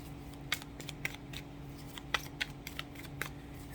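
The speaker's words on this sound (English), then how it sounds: "I'm literally shuffling and they're coming out on their own" Tarot cards being shuffled by hand, a close, faint series of irregular papery snaps and flicks with a low steady hum underneath and no talking.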